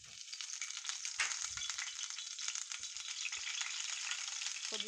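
Curry leaves crackle and sizzle in hot oil in a non-stick pan, a dense continuous frying hiss with a few soft knocks of the pan and no voices.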